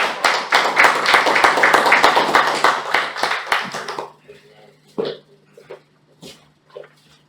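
An audience at a Toastmasters club meeting breaks into loud, busy applause for about four seconds. It then cuts off abruptly, leaving a quiet room with a few scattered sounds and a voice speaking.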